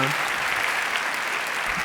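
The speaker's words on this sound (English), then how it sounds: "Another round of applause, please, for Lot van Os and his initiative." Steady applause from a large business-forum audience on a main stage in Amsterdam, a continuous dense clatter of clapping hands with no break throughout.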